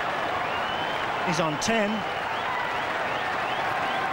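A cricket crowd at a 2001 match against Australia in Perth cheers and applauds in a broad, steady wash, with a commentator talking over it.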